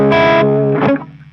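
Electric guitar through a distortion effect, a short loud sustained chord followed by a bent, wavering note that fades out.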